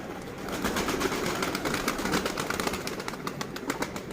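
Fitilli pigeons coo softly while wings flap in brief bursts, fairly close, with no talking.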